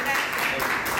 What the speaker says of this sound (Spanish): Esto recibamos con un fuerte aplauso.